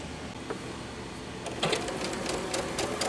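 A home sewing machine stitches quilt pieces for a table topper, starting after a short quiet pause and running as a steady, close, rapid mechanical whir.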